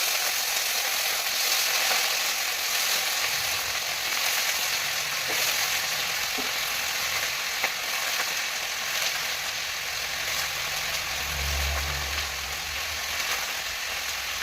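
Food frying in oil, a continuous bright sizzle and crackle held at an even level for the whole stretch, with faint clicks and a low rumble near the end.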